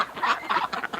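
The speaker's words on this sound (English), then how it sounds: "there's so many ducks in the barn" Many ducks, about fifteen, quack in a crowded 10 by 13 foot winter barn. The calls come close and loud in repeated bursts, overlapping one another with no talk.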